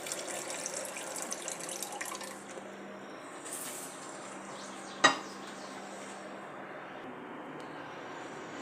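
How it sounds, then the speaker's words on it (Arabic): Basmati rice being rinsed in water in a home kitchen, a steady close swishing and running-water wash with one sharp clink partway through. "من بعد ما غسلت الرز ديالي مزيان، غسلوه شي جوج مرات ولا ثلاثه"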